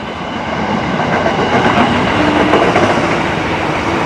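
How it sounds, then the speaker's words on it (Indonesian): A fast KRL commuter train roars past close by near Jakarta, a loud continuous rumble with rhythmic wheel clatter and no voices. "KRL-nya ngebut banget."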